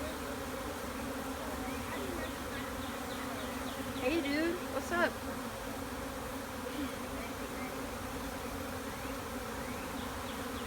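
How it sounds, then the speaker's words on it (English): A dense swarm of bees buzzing close and loud in a constant drone, with a brief swell of nearby wingbeats midway and a person speaking casually over it. "There's so many bees."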